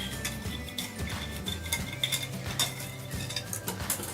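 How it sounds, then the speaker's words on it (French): A spoon stirring a milk mixture in a saucepan for speculoos éclair filling, giving soft continuous scraping and light clinks against the pan in an irregular rhythm, close and fairly quiet. "Et on mélange jusqu'à ce que ça boue et jusqu'à ce que ce soit bien lié."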